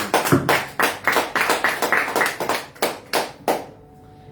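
A church congregation claps at a year-end worship service, a loud rhythmic run of sharp, evenly spaced claps that stops abruptly, leaving a faint hum.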